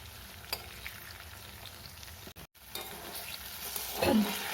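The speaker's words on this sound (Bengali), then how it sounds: "এবার আমি বড়াগুলোকে আস্তে আস্তে উল্টে পাল্টে লাল লাল করে ভেজে নেব।" Fig fritters frying in hot oil give a steady low sizzle with occasional soft turning and stirring sounds, briefly dropping out before a louder burst near the end.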